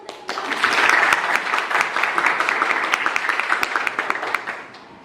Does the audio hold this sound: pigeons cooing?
no